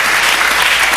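A church congregation clapping together as an offering, a dense, steady wash of many hands filling the whole second at close range with no break.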